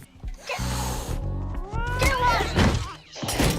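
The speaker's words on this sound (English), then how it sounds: "kicking a cat down the stairs" A cat meows loudly in a movie scene as it is kicked down a flight of stairs, the cries mixed with thumps and a music bed running underneath.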